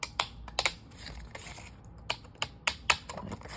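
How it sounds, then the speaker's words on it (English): Scissors make a series of crisp, close snips while cutting paper journal tabs, irregularly spaced clicks and short crunches with quiet gaps between them. "So I'm going to cut right up here"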